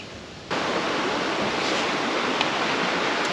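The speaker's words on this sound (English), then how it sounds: "hopefully you can hear me over the waterfall behind me." A constant broadband rush of falling water starts abruptly and then holds steady, loud and close, with no voices.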